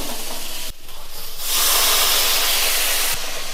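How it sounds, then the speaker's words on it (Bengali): A splash of water added to frying boiled potatoes sets off a sudden loud, steady steam hiss that swells over the ongoing sizzle, then cuts back after a couple of seconds. "আমার ভাজা ভাজা হয়ে গেছে, সামান্য একটু জল দিয়ে"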